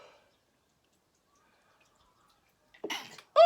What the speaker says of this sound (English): pause for sneeze.